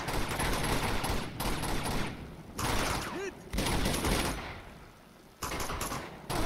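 Gunfire in the action game Uncharted 2: Among Thieves, loud sustained automatic bursts broken by short pauses, with a player speaking over part of it.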